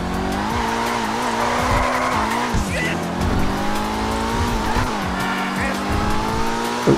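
Car engine droning steadily in Grand Theft Auto V Online, with repeated tire squeals and skids as the car corners, loud and continuous throughout.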